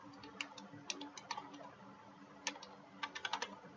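Quiet keystrokes on a computer keyboard come in short irregular bursts of clicks and taps over a faint steady background hum.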